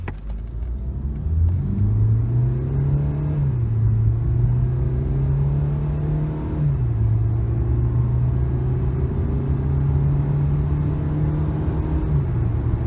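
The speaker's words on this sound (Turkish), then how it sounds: "Mercedes C200'ün hızlanma videosunu çekiyorum." A 2016 Mercedes W205 C200d diesel car accelerating hard, its steady engine drone climbing through the gears with a brief dip at each shift, loud and close throughout with no talking.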